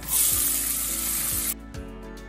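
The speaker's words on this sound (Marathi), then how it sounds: "ते आपल्याला तेलात टाकायची थोडी मोहरी, थोडे जिरे आणि आपल्याला टाकायचा हा बारीक चिरलेला कांदा।" Mustard seeds, cumin and finely chopped onion hitting hot oil, a loud bright sizzle that flares at once, holds steady, then drops sharply to a quieter crackle, with no talk.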